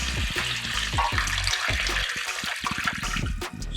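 Bouillon water goes into a hot pan for Spanish-style chicken rice and hisses into a loud bubbling sizzle, with low gurgling pulses and clinks under it.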